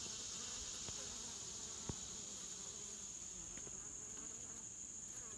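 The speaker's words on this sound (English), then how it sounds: "I noticed that the bees in this hive are doing awesome." Bees buzz around a busy beehive as foragers return loaded with yellow pollen, a steady soft drone of many insects with a few individual bees passing close, faint and continuous throughout.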